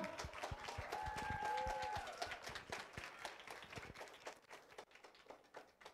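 Audience applause for people on stage at a press conference, brisk dense clapping that is loudest early, then thins into scattered individual claps and fades toward the end, with a faint voice in the middle.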